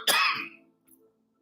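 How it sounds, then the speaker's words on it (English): A single sharp cough bursts out loudly near the mic, followed by a faint trailing rasp and a brief click, with otherwise quiet surroundings. "getting over a little cough."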